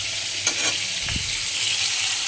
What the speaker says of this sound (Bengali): আর এই যে এদিকে মাছ ভাজা করছি